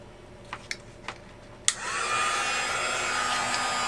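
After a few light taps, a heat tool switches on with a sharp click and settles into a steady, loud blowing whir while drying a sheet of patterned paper.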